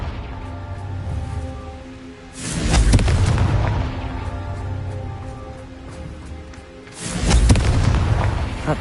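Two heavy booming blasts of the Confringo spell in the video game Hogwarts Legacy, each a deep, loud rumbling burst that fades slowly, spaced several seconds apart over a low humming game background.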